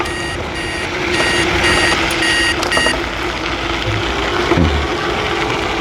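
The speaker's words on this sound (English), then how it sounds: "if you can hear that beeping in the video. That's just a GPS app I was using" Repeated electronic warning beeps from a GPS app on an e-bike ride, a Ebikeling AWD dual-motor 26-inch 1000W 48V, sounding in short bursts over steady wind and road noise during the first half, then fading out.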